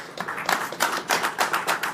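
A small audience at a BNI business networking meeting gives a brief round of applause: several close claps in a loose, fairly even rhythm, with no voices over them.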